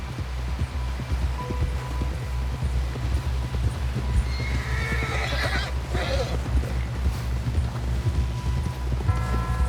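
A horse in the Red Dead Redemption II video game whinnies loudly around the middle while its hooves clop in a steady running rhythm underneath, with game ambience and music tones humming throughout.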